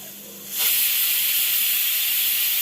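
Pressure cooker whistle bursting into a loud, sustained hiss of escaping steam while kusha rice cooks, starting abruptly after a quieter moment and holding steady to the end.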